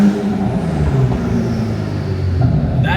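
A Honda NSX hybrid supercar's engine revving, a loud, close, throaty rumble holding steady before rising sharply near the end.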